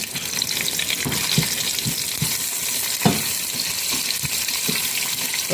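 Onion goes into a hot pan with browned garlic and sizzles steadily, with repeated stirring clacks of a utensil against the pan at a near, moderate level and no talking.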